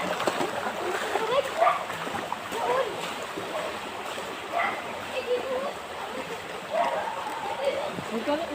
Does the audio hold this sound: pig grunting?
no